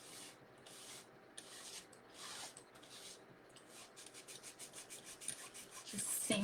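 Hard scrubbing with a brush gives quiet, rhythmic rasping strokes, slow at first and then quicker, close by and faint overall.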